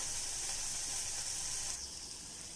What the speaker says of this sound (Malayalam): നന്നായിട്ടൊന്ന് വറക്കണം കേട്ടോ തേങ്ങ